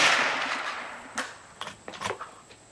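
Several sharp gunshots from a Smith & Wesson Model 17 revolver at an outdoor range aimed at soda cans, a few quick cracks that fade into a noisy hiss rather than sounding close and dominant, with no talk.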